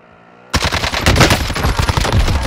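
Gunfire in Call of Duty Warzone erupts after a brief quiet moment, rapid automatic bursts crackling loudly and densely, with no talk over them.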